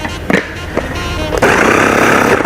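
A handheld electric food chopper runs with a steady loud whir from about 1.4 seconds, preceded by a few knocks and clicks as the container is fitted.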